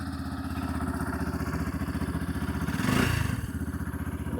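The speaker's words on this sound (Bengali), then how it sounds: "চলো তোমাদের এখন এই রেভের ইঞ্জিন সাউন্ডটা শোনাই" A Yamaha FZ Rave motorcycle engine idles steadily close by, a low, even, rapid thrum with a brief rev swell near the end and no talking.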